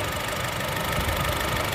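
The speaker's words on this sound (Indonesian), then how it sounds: "Posisi mesin, AC semua hidup. Bunyi itu ciri khas Honda ya." A used Honda car engine idles steadily with the air conditioning running, a continuous low mechanical hum with a faint knocking texture, close and unbroken for the whole stretch.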